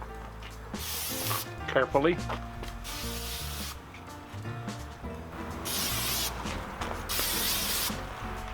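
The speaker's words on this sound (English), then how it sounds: "I'm gonna spray these grates a little bit." Cooking spray hisses onto the grates of a Weber kettle grill in bursts, with someone talking briefly near the start and a closer hiss towards the end.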